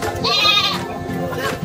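A goat bleats a single drawn-out, wavering call up close at a Padre Garcia livestock auction market, over a murmur of people talking nearby.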